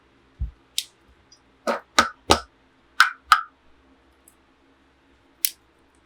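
Scissors cut in a series of sharp, crisp snips, about eight in all, spaced irregularly with quiet gaps between, close by and with no voices.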